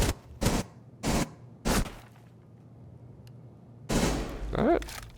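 Three short bursts of gunfire from Rainbow Six Siege, evenly spaced in the first two seconds, then a quiet stretch before a louder, denser burst near the end.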